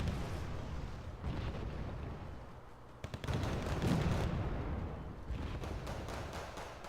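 Bison armored vehicle firing in the Wargame: Red Dragon real-time strategy game, a sustained rumble of gunfire and explosions with a sharp burst of shots midway, dense and booming throughout.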